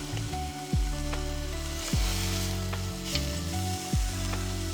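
Jerk chicken pieces sear in a hot pan with a steady, close sizzle and bursts of crackling as pieces are turned, over a low humming background.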